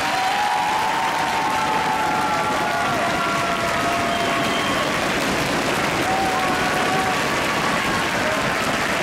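Sustained circus audience applause, a dense steady clatter of many hands clapping throughout, with faint crowd noise mixed in.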